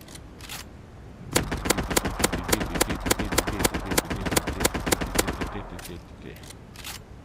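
Sci-fi weapons fire in a tower defense video game: a steady, rapid burst of evenly spaced electronic shots runs for about four seconds, with quieter game ambience before and after.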